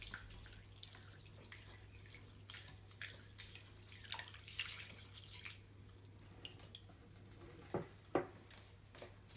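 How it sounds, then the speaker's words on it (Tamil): Rice being washed by hand in water for idli and dosa batter, with quiet, sporadic splashes and drips that come close and soft and grow a little louder near the end, with no talking. "அப்படியே இப்படி போட்டு அரிசி நல்லா கழுவுங்க."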